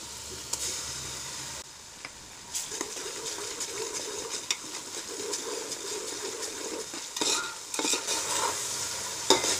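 Caraway seeds and ginger-garlic paste fry in oil for chicken tahari, a close bright sizzle with repeated spoon scrapes and clinks against the pan, continuous and without speech.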